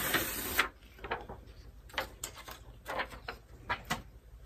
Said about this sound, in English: So I'm just peeling this off.